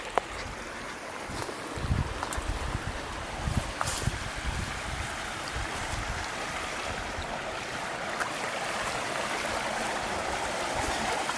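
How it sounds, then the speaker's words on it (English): Clear brook water spilling over tiny cascades along the Narragansett Trail makes a steady, close wash. It runs with some wind buffeting and a few scattered knocks near the start. "Nice clear water, tiny little cascades."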